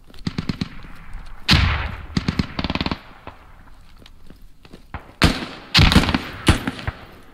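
Gunfire in a video game squad match: sharp, loud single shots and rapid bursts, some closely spaced rattles and a few heavier blasts, heard alone without talk.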